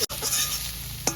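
Fenugreek greens drop into a hot kadai for a Bengali rui fish curry, a short close sizzle and hiss after a quick clatter, ending with a small rise in sizzle.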